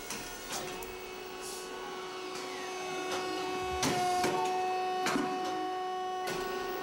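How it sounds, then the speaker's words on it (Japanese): A computer-controlled semi-automatic metal spinning machine forms flat sheet metal into a round shape for a radio-controlled car muffler, with a steady mechanical hum and tonal whine broken by repeated sharp scraping and clanking strokes. "コンピューター制御で板金へら絞りを行う"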